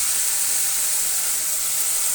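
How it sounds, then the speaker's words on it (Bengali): Fried potatoes and eggs drop into a spice mix already cooked down in oil, giving a steady, loud, broad hiss of sizzling fat that holds evenly throughout with no voices. "আর এখন আমি দিয়ে দেবো এর মধ্যে সে ভেজে রাখা আলু আর ডিম।"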